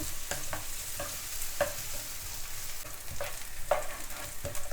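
Onions and chillies sautéing in a pan for Sri Lankan vegetable rolls: a soft continuous sizzle broken by a spoon repeatedly scraping and tapping the pan at an uneven pace, close by with no talking.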